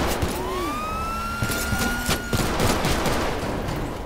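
Grand Theft Auto gameplay: a rapid fusillade of video-game gunfire rattles out amid blaring police sirens whose wailing tones sweep up and down, loud and continuous, with scattered sharp shots throughout and no talk.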